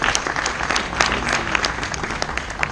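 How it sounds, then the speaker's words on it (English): Graduation ceremony audience clapping steadily for graduates of a graphics digital design diploma, a dense, even wash of many hands that runs throughout without speech. "Ladies, let's clap."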